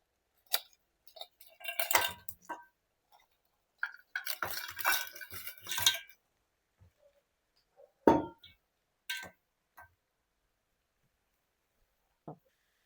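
Cleaned crabs tipped into a pan of oily curry masala and stirred, giving scattered wet clinks, scrapes and squishy thuds in short bursts with quiet gaps between.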